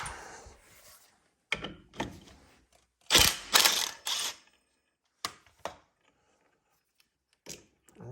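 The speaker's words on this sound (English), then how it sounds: "I'm just kind of wedging the bolt in it and wiggling it and getting it out." Metal bolt wedged into a Polaris Sportsman rear axle bearing-carrier bushing and wiggled to pry it out, giving several separate scraping, clicking bursts spread across the span, up close and with no talk.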